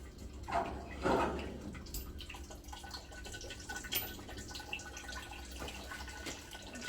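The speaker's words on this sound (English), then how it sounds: "Just let that drain away." Water drains and drips from homebrewing equipment during a blood orange saison brew, with trickling, splashing bursts early on and then a quieter run of scattered drips. It is close, fairly faint and free of speech.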